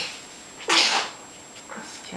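One sharp sneeze bursts out close to the microphone, followed by a softer second sniff-like exhale, in an otherwise quiet room with no talking.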